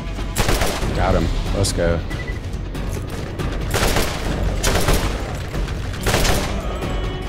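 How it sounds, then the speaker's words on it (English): Assault rifle gunfire in a video game, loud bursts of automatic shots repeating in several volleys over busy game noise, with a player speaking briefly between them. "This assault rifle's crazy, bro."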